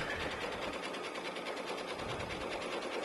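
A sewing machine stitches pearls onto fabric for a window treatment, at stitch length and width 4, giving a steady, continuous mechanical whir with fast regular pulsing throughout, fairly close and alone.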